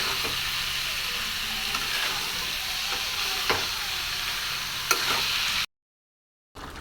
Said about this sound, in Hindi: भून लेती हूँ, आगे भून लो।